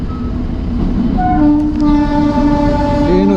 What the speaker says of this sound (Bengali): ট্রেনও যাচ্ছে দেখো